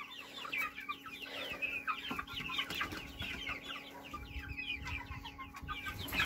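Young chicks from a St. Petersburg gene-pool breed cluck and peep busily on their first walk outdoors, a dense, continuous chatter of many birds close by.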